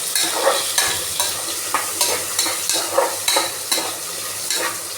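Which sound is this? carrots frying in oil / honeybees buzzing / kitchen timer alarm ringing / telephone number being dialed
carrots frying in oil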